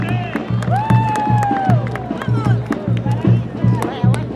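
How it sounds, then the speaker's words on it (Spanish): A crowd applauds at a Paso horse show during a patron saint festival, with scattered claps, cheering and babble and voices calling out over a steady low hum. "El aplauso a los presentes."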